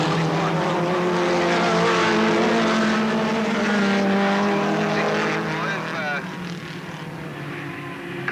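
Several racing cars lap the oval at Alwalton Raceway in 1983, engines droning loudly and continuously with overlapping harmonic whine that shifts as they pass, a commentator talking over the field throughout.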